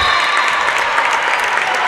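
Steady applause and cheering from a crowd of parents at a girls high school volleyball match in a gym, continuous clapping filling the hall at a constant level.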